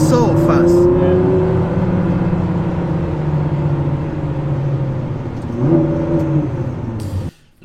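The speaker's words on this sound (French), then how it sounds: "Le son du moteur est, je trouve, hyper cool." Engine of a 2019 Ford GT supercar with 647 hp on a race track, a loud sustained drone with rising and falling pitch as it accelerates and shifts, close and steady, with voices talking over it.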